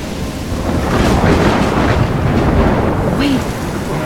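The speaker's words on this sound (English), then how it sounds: "I'm trapped in a storm?" Thunderstorm in the video game Life is Strange, steady heavy rain with a deep rolling rumble of thunder swelling through the middle, loud and continuous with no voices.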